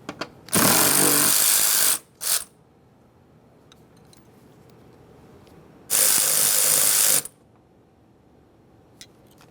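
Ratchet wrench loosening 10mm nuts on a 2015-2020 Ford F-150 rear door, in two loud, close bursts of rapid clicking about 1.5 seconds each, with a short tick between them and quiet gaps around.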